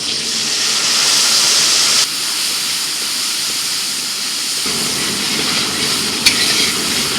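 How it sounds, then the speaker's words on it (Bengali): Spice paste of chili and turmeric powder mixed with water poured into frying tomatoes, a loud, close, continuous sizzle and hiss that shifts in texture as the paste hits the pan. "এদিকে টমেটোটা ভাজা হয়ে গেছে এখন মশলা ঢেলে দিচ্ছি"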